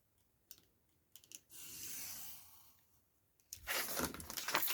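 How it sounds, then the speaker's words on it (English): Paper being cut with scissors to free a single printed image for a journal card, crisp snips and rustling that come in short bursts and then swell louder near the end, with no one talking. "So I think I'm going to cut this middle one out."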